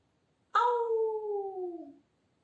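A single dog or wolf howl rises sharply and then glides slowly downward for about a second and a half, loud and close against near silence.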